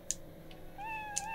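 Cat meow from the cat bomb gadget in the video game TimeSplitters: Future Perfect, one short rising meow near the end of the clip, preceded by faint clicks over a low game hum.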